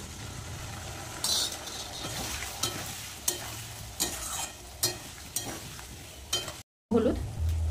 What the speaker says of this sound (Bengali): ভালো করে আলু আর কচু কিন্তু মশলা দিয়ে কষিয়ে নেব